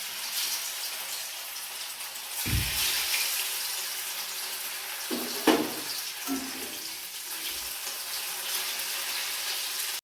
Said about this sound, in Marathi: आपण त्याला छानसा ब्राऊन कलर येईपर्यंत फ्राय करून घेऊया.